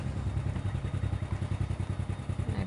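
A motorcycle engine idles nearby as the bike is parked, a low steady pulsing rumble with faint clatter that continues at moderate volume through the whole clip.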